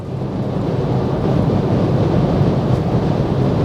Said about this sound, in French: ça souffle quand même un peu là au niveau des montants